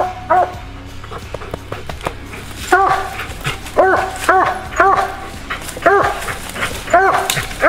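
A coonhound barks repeatedly during an organized night coon hunt, loud close yelps and bawling barks in an uneven rhythm, growing more frequent over the clip.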